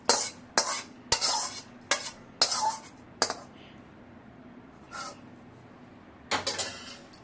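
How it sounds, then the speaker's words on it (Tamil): A spoon clatters and scrapes through lemon pickle with oil, mustard and chilli in a dish, giving a run of quick, sharp clinks followed by a pause and a few more strokes, close and alone. "நல்லா ஆறினதுக்கப்புறம் எல்லாம் ஒன்றா போட்டு மிக்ஸ் பண்ணிக்க வேண்டியது தான்."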